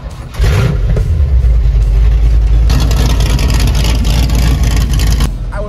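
A 1982 Ford F100 pickup with a 351 Windsor V8 and C6 automatic runs loud and close, a deep steady rumble that swells after a brief quieter start and holds strongly before easing off.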